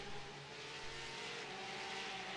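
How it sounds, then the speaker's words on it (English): Race car engines in the iRacing sim at Virginia International Raceway roar steadily throughout, a dense, loud, continuous drone with faint tire noise and no talk. "Apparently the engine noise is a little bit too loud on the broadcast."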